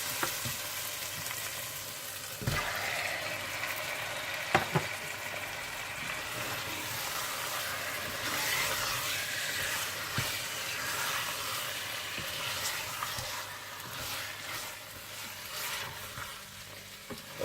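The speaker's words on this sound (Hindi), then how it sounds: "और जब मसाला अच्छा सा भून जाए तो आप इसमें चिकन डालकर अच्छी तरह से भून लीजिएगा।" Chicken fries in masala in a pan for a chicken and potato curry, giving a steady close hiss and crackle with a few sharp knocks of a stirring spoon; no voices.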